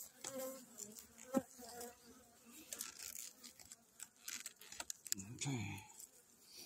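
Agitated bees buzzing around a hive being treated, a busy high drone with passing close buzzes, mixed with clinks, knocks and handling noises, and brief voice sounds.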